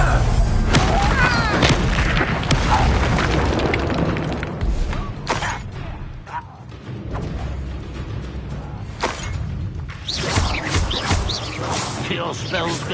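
The Incendio fire spell is cast repeatedly during a fight in Hogwarts Legacy, giving loud booming bursts, whooshes and shattering impacts over a continuous rumble, while voices talk throughout.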